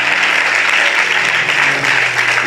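Sustained, dense applause from an audience at a prophetic church meeting, loud and steady throughout with no breaks.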